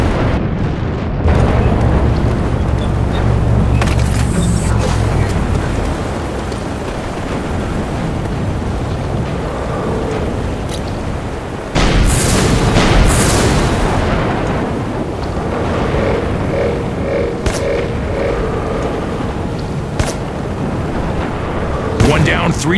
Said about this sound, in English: Or you could use a grenade.